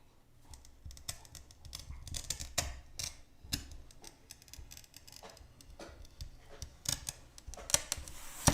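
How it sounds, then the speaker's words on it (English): A Silberschnitt carbide wheel glass cutter scores a sheet of dense glass with bubbles, giving a crackly, ticking run of sharp irregular clicks and scratches, close and fairly loud, bursting stronger toward the end. "So I've got my Silberschnitt, my cutter here, and we're gonna cut this and see what it sounds like."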